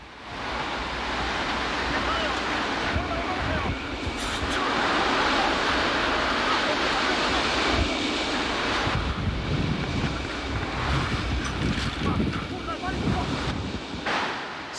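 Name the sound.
sea waves and wind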